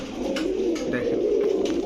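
Giribaz racer pigeons at a bird market coo in a steady, continuous murmur, close and fairly loud, with several birds overlapping throughout.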